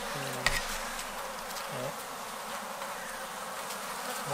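Honey bees swarm around an open brood frame of a ten-frame hive, making a steady, dense buzz that carries throughout, with a brief voice near the start.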